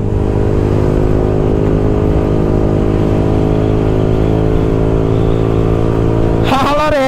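Motorcycles race along a road toward the Sajek hills with a loud, sustained engine whine that climbs slowly in pitch as they accelerate, ending with a sharp shift as another bike roars past near the end.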